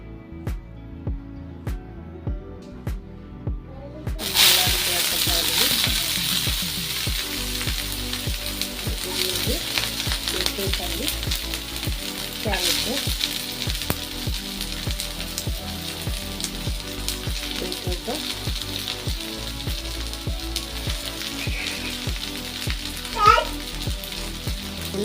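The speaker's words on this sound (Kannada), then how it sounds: "ತರಕಾರಿ ಎಲ್ಲ ಹೆಚ್ಚಿಟ್ಕೊಂಡಿದ್ನಲ್ಲ ಅದನ್ನ ಸ್ವಲ್ಪ ಒಗ್ಗರಣೆ ಹಾಕೊಳ್ಳೋಣ." Chopped vegetables dropped into hot oil in a pan for tempering, starting after a quiet moment with a sudden burst of loud sizzling that settles into a steady close fry with crackles, a faint voice occasionally under it.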